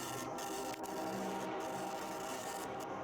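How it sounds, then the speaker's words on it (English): A printer screeching and grinding to a halt, a continuous dense rasping mechanical noise with brief breaks, loud and close, with no talk. "The printer comes to a grinding halt again."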